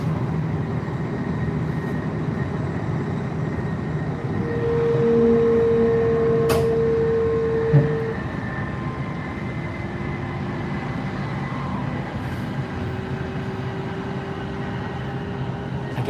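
Shinkansen bullet train pulling into Nagano, heard from inside as a steady low rumble of rolling wheels and cabin hum, with a brief rising whine and a faint clunk partway through.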